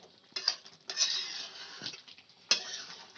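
Chicken being stir-fried in a pot with no water for chicken darvesh: a metal spoon scrapes and clinks against the pot in irregular strokes, with soft sizzling between, close and fairly quiet.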